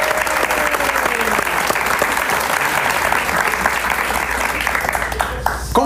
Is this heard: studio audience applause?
yes